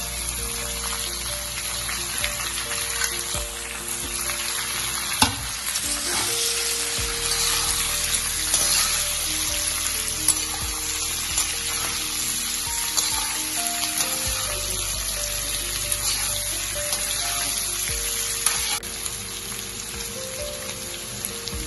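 Potatoes frying in a pan with spices and a little salt in a home kitchen, a continuous soft sizzle and crackle running evenly throughout, close and moderately loud with no talking.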